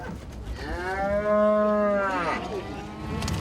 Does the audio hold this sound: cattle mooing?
yes